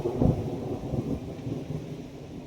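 A deep thunder rumble swells at the start and then rolls on at a lower level, with a steady outdoor hiss underneath.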